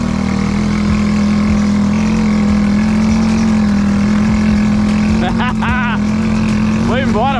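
Quad bike ATV engine runs steadily at a loud, constant drone near the microphone throughout, with voices talking over it and rising whistle-like tones near the end.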